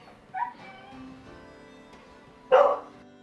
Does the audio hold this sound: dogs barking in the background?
yes